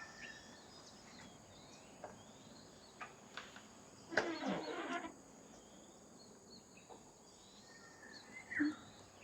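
Faint chirping birdsong with a few short calls over a steady insect drone, quiet and distant with no talking.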